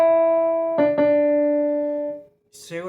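Blues scale played low down on a piano, a few deep sustained notes ringing out and decaying, followed by a brief burst of speech at the end.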